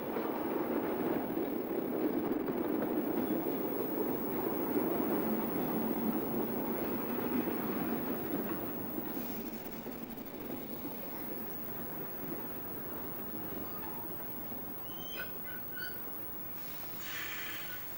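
A vintage suburban passenger train arrives at Brighton Beach, its steady rumbling roll loud at first and then easing and fading a little as it slows, with faint clicks and squeals near the end.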